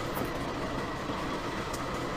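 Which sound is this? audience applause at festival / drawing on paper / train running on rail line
train running on rail line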